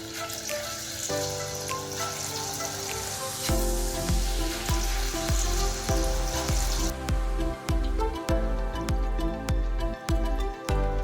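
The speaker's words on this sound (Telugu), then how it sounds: "ఆయిల్ నుండి పకోడీ పైకి తేలాక అప్పుడు మనం దానిని సపరేట్ చేసుకోవాలి." Onion pakodas with ajwain leaves deep frying in oil, a steady bubbling sizzle beneath loud rhythmic background music throughout, with no speech.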